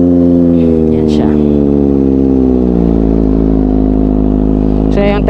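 A new 2022 Kawasaki Ninja ZX-25R motorcycle engine, warmed up to operating temperature, running loud and close with a steady high-pitched four-cylinder drone that dips slightly and then picks up again near the end.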